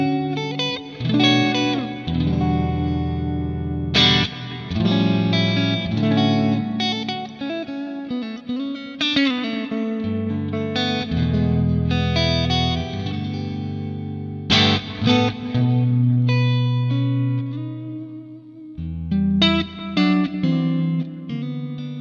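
Loud electric guitar chords ring out with lush reverb and echoing repeats, each strum sustaining and blending into the next over about twenty seconds.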